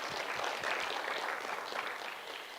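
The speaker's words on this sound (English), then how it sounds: "So one round of applause for Ankita." Audience at an African tech community conference clapping in a steady, even wash of applause that holds at a constant level throughout, with no speech over it.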